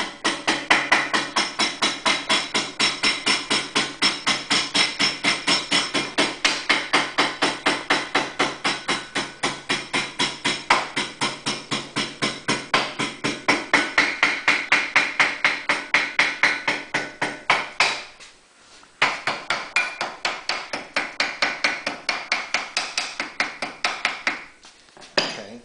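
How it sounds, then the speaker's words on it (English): A ball peen hammer strikes metal clamped in a vise, shaping a part for an electric start on a Honda EU2000iS generator: rapid, steady ringing blows that go on for about 25 seconds, with two brief pauses near the end. "I'm just going to be using a vise and a ball peen hammer"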